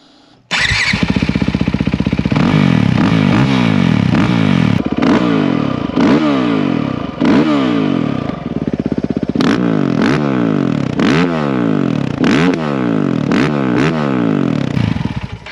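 A motorcycle engine starts and rumbles loudly up close, then revs repeatedly in rising and falling surges over a steady idle.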